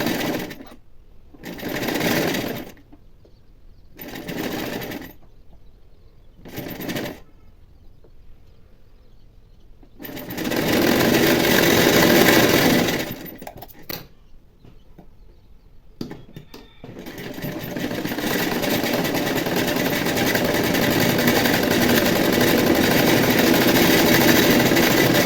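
A sewing machine stitches a belt strip onto a plain blouse, running in short whirring bursts that stop and start, then settles into a longer continuous hum, close and steady with no talking.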